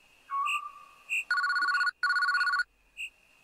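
An old-fashioned telephone rings in a horror video game, sounding as a few separated electronic-bell bursts with two longer rings in the middle, clear and moderately quiet, no talk.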